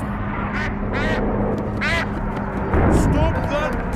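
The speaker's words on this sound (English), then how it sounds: "Stop that duck!" Cartoon duck quacks from a Peppa Pig episode, several bright nasal quacks in quick bursts over about four seconds, mixed with background music and cartoon voices talking.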